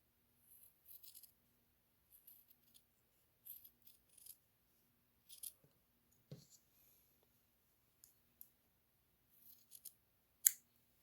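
Sparse, quiet snips and clicks of scissors cutting, in short irregular bursts separated by near silence, with one sharper click near the end.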